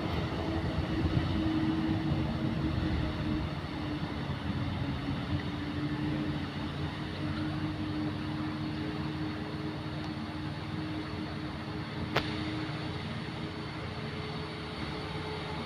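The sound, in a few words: Mitsubishi Colt Diesel truck accelerating on incline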